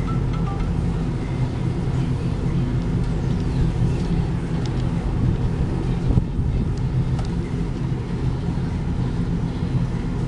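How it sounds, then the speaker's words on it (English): A car on a test drive, with a steady engine drone, road rumble and wind noise heard from inside the cabin, continuous and even throughout. "Take you guys on a quick test drive."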